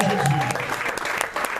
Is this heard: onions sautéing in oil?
no